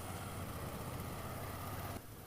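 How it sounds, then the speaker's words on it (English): Moto Guzzi V7 III Stone motorcycle engine giving a steady low rumble with broad road and wind noise, continuous and loud, easing slightly near the end. "But ooh, that rumble, I don't know if you hear it."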